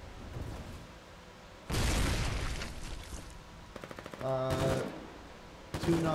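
A mortar fired from a half-track in the Foxhole war game, a heavy burst of gunfire and booming with rattling automatic shots and a mechanical ringing tone, loud and close among noisy battle ambience.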